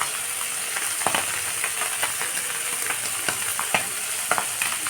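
Small mola fish fry in oil with salt and turmeric, giving a steady loud sizzle throughout, broken by frequent brief clicks and scrapes from stirring.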